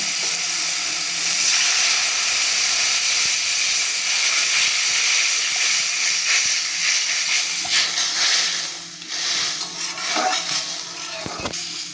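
Water poured into a hot pan of frying spice paste with chopped tomato for a Bengali fish curry, giving a loud, steady steaming sizzle and hiss that runs for several seconds before easing off near the end.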